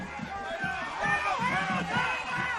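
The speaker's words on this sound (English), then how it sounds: "And the Riverdale crowd is incensed." The Riverdale home crowd at a high school football game against Hendersonville roars in anger after a timeout is called, a sustained mass of shouting voices with a commentator's voice over it.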